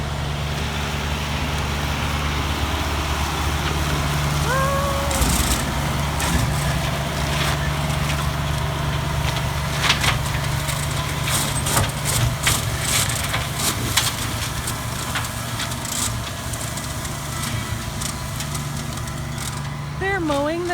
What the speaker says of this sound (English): I thought you might like to check out this really cool tractor with me.